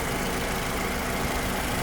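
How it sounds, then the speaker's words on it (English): A 2017 Toyota RAV4 Cruiser 4x4 engine idles steadily, a low continuous rumble with a broad hiss on top, close by and unchanging, with no voices. "the car is still running"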